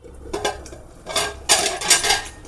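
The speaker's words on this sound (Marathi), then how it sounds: "आता ह्याच्यावर झाकण ठेवायचं" Lid set onto a pan of besan pithla with raw mango: several close metallic clanks and scrapes as it settles, loud and short.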